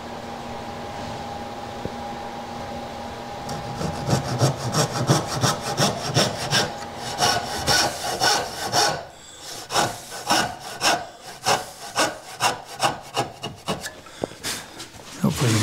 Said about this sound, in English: Have the dovetail marker cover the line so that you're cutting in the waste. Keep the saw tight to it.